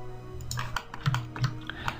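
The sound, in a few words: pressing delete on a computer keyboard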